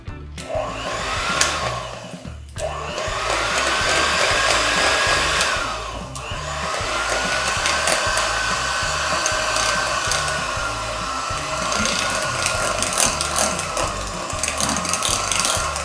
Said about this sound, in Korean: 가볍게 섞은 다음에 가루 재료 넣어볼게요. 아주 짧게 섞을게요.